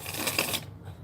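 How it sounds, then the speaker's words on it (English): Tarot cards are shuffled by hand in a brief crisp riffling burst that stops abruptly, leaving a quiet background. "So I'm going to keep on shuffling"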